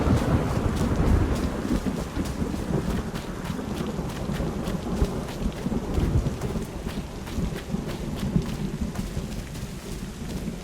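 A thunderstorm in the video game Arena Breakout: steady, loud rain and rumbling thunder roll through continuously, with dense crackling patter and gusty noise and no speech.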